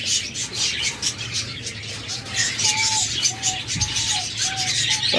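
Caged pet birds, budgerigars and lovebirds, give a handful of soft repeated chirps and short whistled calls over a steady background hum, moderately close.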